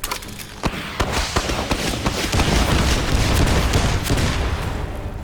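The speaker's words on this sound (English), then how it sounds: "the only way I can shoot at it is with the rockets" Rocket pods fire in the video game Ironcast, a rapid barrage of loud explosive thumps and booms that builds into a dense, continuous rumble.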